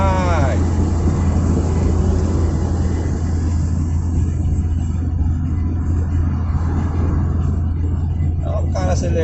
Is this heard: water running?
no